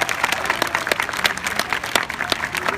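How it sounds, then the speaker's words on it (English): Audience applause at an aquarium sea lion show, a dense and steady wash of many hands clapping from a crowd nearby, sustained at even loudness throughout. "How about another big round of applause for our 2 stars?"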